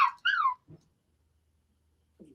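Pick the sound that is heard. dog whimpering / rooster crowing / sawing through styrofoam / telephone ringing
dog whimpering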